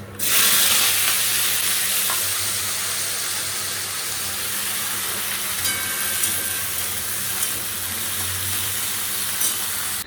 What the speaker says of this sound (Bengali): এখানে করলা ভাজা চেপে গেছে, এখানে হচ্ছে আলু ঝিঙা পোস্তটা চাপাবো